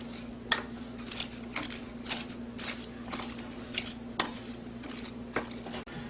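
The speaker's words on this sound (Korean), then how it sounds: "식초를 한 수저 정도 넣어서 뒤적거려 주세요" Seasoned squid tossed with vinegar in a bowl, giving a series of soft, evenly spaced scraping and clinking strokes of a utensil against the dish, close and fairly quiet, with a steady low hum underneath.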